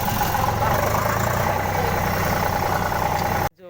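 A tractor engine idles and chugs steadily up close with a low, even rumble on a farm before it cuts off abruptly.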